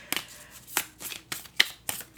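A tarot deck is shuffled by hand in short riffling bursts, a few crisp papery flutters separated by brief pauses, close and fairly quiet.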